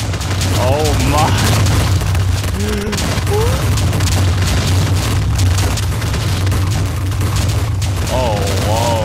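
A space station blown up in Minecraft erupts into a loud, sustained roar of rumbling explosions and crackling blasts lasting throughout, with excited voices and exclamations cutting in over the din.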